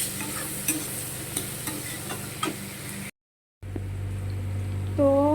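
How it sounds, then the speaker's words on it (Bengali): Three large onions fry in a pan with a steady soft sizzle and scattered stirring clicks, followed by a short silent gap and a quieter continuing sizzle. "তো এটাকে এখন ভালোভাবে আমি লাল লাল করে ভেজে নেব।"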